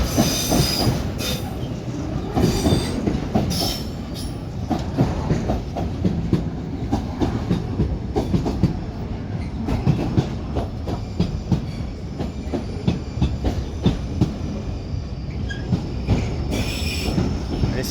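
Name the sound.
DRS Class 88 locomotive hauling Tesco freight train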